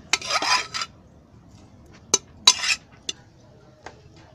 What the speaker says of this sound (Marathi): असं सगळा कुकरमधला आहे ना काढून कढईत घेते